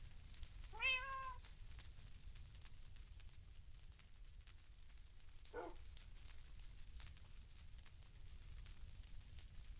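A cat meows in the Minecraft video game, a short rising-and-falling call near the start with a second brief meow midway, over a steady low ambient background hum.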